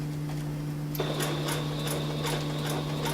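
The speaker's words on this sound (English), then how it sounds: "anything I do on a sewing machine" A sewing machine stitches a small delicate loop on a travel pillow, giving a quiet run of rhythmic mechanical ticks over a steady low motor hum.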